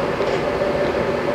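A new-2000 Hwacheon HL-460 gap bed lathe runs with a steady, fairly loud mechanical hum and a constant tonal whine, holding even throughout as the spindle speed is raised; no one speaks.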